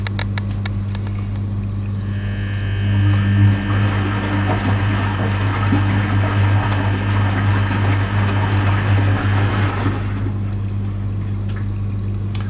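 A Rex Input RL12X washing machine fills with water during the third rinse of a 90° cotton whites cycle, giving a steady rushing flow over a low motor hum that swells and then fades near the end.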